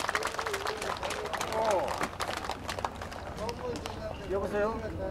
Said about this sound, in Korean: 박수 한번 보내주시기 바라겠습니다